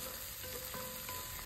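Onion, ginger and garlic paste with turmeric frying in hot oil in a kadai, a steady close sizzle with faint stirring scrapes, no talk.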